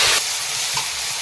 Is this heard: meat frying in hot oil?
yes